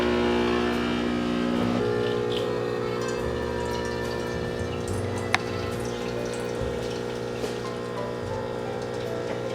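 A DeLonghi espresso machine brewing a double shot gives a steady, close pump hum with a trickling pour, alone and without voices.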